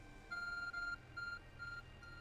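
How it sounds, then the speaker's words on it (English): Faint, thin electronic phone beeps sound in a short series of three tones, fading with each repetition over low background hum. "Our phone's beeping."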